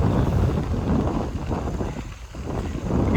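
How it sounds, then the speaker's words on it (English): Strong wind roars steadily across the microphone while cycling the Great Allegheny Passage trail in fall, a loud, broadband rush that swells and dips slightly without pause. "You can see the movement on the trees, how bad the wind is."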